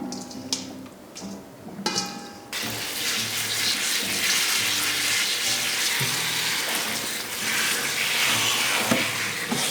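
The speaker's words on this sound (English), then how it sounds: "let's go and rinse this in a strainer" Running tap water pours steadily over wilted salted kimchi cabbage in a strainer, a loud continuous splashing hiss after a few brief clinks and rustles at the start.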